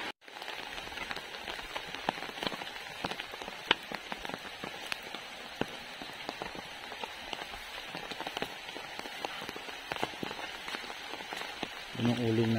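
Steady rain patters on a surface, a dense, constant hiss with scattered louder drops, fairly soft and continuous throughout.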